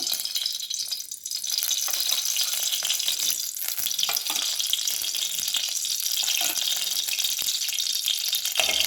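Mustard seeds frying and spluttering in hot oil in a pan, a dense, steady crackling sizzle that runs close and loud throughout with no voice over it.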